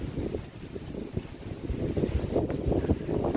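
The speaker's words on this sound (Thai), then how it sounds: "ฟังจากเสียงลมที่เข้ามาในนี้ก็" Wind buffets the microphone in a steady low rumble with gusty bursts at a riverside in Nakhon Nayok, water faintly audible underneath.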